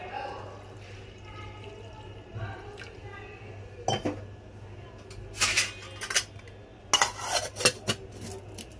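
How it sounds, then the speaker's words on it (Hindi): Water poured over washed lentils in a kitchen bowl to soak, with splashing and clinking of a vessel in bursts, loudest toward the end, over a low steady hum. "अब हम इसमें पानी डालकर इसे एक घंटे के लिए भिगो कर रख देंगे।"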